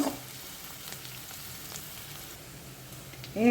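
Onions frying in oil in a pan for kalthappa, a steady soft sizzle running throughout, close and fairly quiet, swelling louder with a brief stir at the very end.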